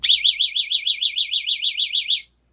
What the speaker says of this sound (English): I'm going to go ahead and hit this personal alarm button.